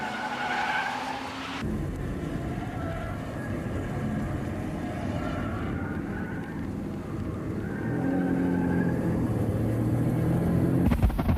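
Race cars, including a Nissan Skyline and a Mazda RX-7, run on a circuit: loud, steady engine drone with shifting pitch and a sustained tyre skid, continuous throughout.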